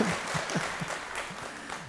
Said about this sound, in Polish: Teraz jeszcze raz brawa.